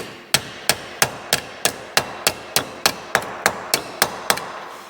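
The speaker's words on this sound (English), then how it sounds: "I'm trying to hammer the end of the tuck closed" Repeated hammer blows closing the end of a tuck in sheet metal on a homemade shrinker tool, about fourteen sharp, close strikes at a steady, slightly quickening rhythm, each with a short metallic ring.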